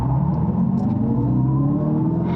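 Dodge Charger Daytona Scat Pack EV launching under launch control, a loud steady electric motor whine and road roar building continuously through the run, with no voices.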